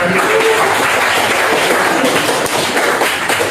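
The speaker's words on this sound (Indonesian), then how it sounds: "kita berikan tepuk tangan dulu" A classroom of students gives a steady round of applause during a chemistry lesson, dense and fairly loud clapping that continues evenly throughout.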